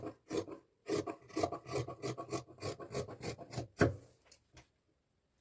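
Scissors cutting blouse cloth along a marked line, a steady series of crisp rasping snips in an uneven rhythm, close and fairly quiet, with no talking.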